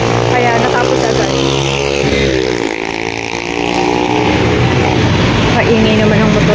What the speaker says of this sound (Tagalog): Kaingay naman ang motor na yun.